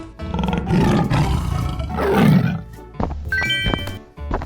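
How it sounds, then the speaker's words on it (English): A tiger in a 3D animal slide video game gives two loud, rough roars one after another. Shorter game effects follow them. "Tiger."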